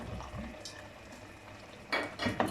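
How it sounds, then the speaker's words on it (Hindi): Beef pieces frying in a couple of spoons of oil in a pan, with faint sizzle and scraping stir strokes that swell into louder clatter near the end. "इसे अच्छे तरीके से 5 से 7 मिनट के लिए भून लेंगे।"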